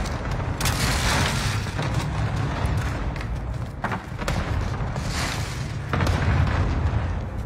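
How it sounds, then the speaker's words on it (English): Cluster bomb and airstrike explosions in a multiplayer shooter game rumble in a dense barrage of deep booms and sharp blasts, loud and sustained throughout with no talking. "they threw a cluster and an airstrike?"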